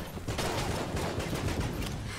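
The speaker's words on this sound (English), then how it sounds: "There's a lot of explosions happening in this room." Rapid bursts of gunfire and explosions in the video game Enter the Gungeon, a dense, continuous volley of sharp shots lasting about two seconds, with no talking.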